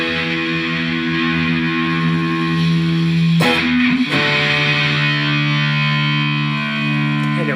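Electric guitar played through an AmpliTube distortion effect: sustained, heavily overdriven chords ringing with rich overtones, a sharp re-strike partway through, then a long droning sustain.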